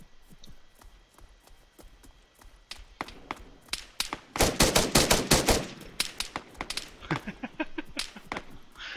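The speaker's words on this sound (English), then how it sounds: "I'm just sort of firing it." Gunfire in the video game Arma 3: quiet single shots at first, then dense rapid bursts of sharp cracks that stay loud and close before breaking into spaced shots again.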